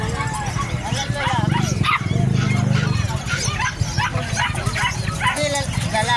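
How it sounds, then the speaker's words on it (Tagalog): Several dogs bark and yip in a busy, overlapping chorus at the Bocaue pet market, some near and some farther off, while people talk in Filipino underneath. "Ang dami mga aso."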